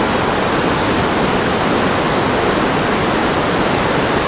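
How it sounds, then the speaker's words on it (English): Norris Creek is heard from roughly 500 feet above as a steady, loud broadband rush of flowing river water, constant and unbroken, with no voices over it. "Because that river at this point is quite loud. I can hear it from here."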